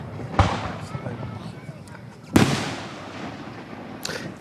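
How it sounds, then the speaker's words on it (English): Fourth of July fireworks in Gettysburg burst in three sharp booms spaced a couple of seconds apart. Each blast is followed by a fading rumble, and quiet voices murmur between the explosions. "It's funny how people speak in hushed tones during fireworks. There's explosions going on."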